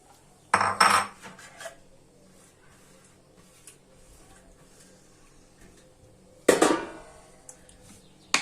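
Chopped onion added to a cooking pot holding chicken pieces, two loud clattering bursts of food and utensil hitting the pot several seconds apart, with quiet background between.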